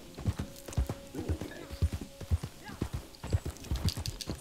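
Hooves clip-clop at a steady walking rhythm as a horse is ridden in the video game Red Dead Online, each footfall distinct and fairly close, with a faint whinny partway through.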